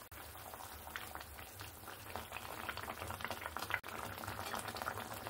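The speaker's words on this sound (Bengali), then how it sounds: "আমার এখানে ঝোলটা ফুটে উঠেছে।" Fish curry gravy for black pomfret tel jhal bubbles steadily in a pan on the stove, a dense, continuous rolling boil with crackling pops and one brief dip near the end.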